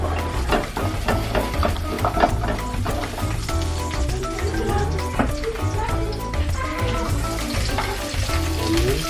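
Chopped onion sizzles steadily in a frying pan with salmon, garlic and ginger for a sweet and sour salmon dish, a continuous close, even frying hiss lasting throughout.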